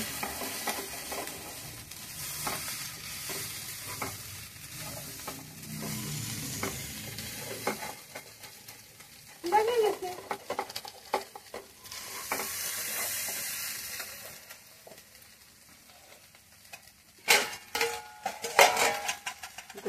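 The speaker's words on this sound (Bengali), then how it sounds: "এবার আলুগুলো একটু নাড়াচাড়া করে নেবে, একটু হলুদ গুঁড়ো দাও" Potatoes frying in a pan with turmeric, stirred with a spoon that scrapes and clinks against the metal over a soft steady sizzle, fairly quiet with a few louder stirring bursts.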